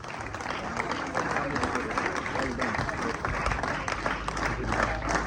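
An audience claps for a cadet receiving an award at a school prize ceremony, a steady, even wash of applause filling the whole stretch at moderate distance.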